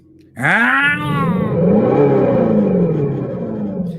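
An electric muscle car's simulated exhaust gives a loud, synthetic engine roar that sweeps sharply upward in pitch, then settles into a sustained growling drone, like a revving exhaust.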